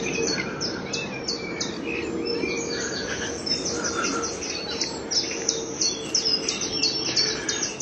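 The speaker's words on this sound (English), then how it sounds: "Oh, it's lovely, listen to the birds." Birds sing along a river at Dawsholm: several close, bright chirps and trills repeat in quick overlapping phrases over a soft outdoor background, with no voices.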